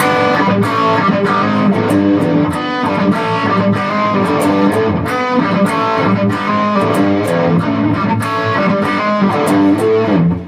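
A dense, loud distorted electric guitar riff plays continuously with steady rhythmic chords and sharp attacks, no voices.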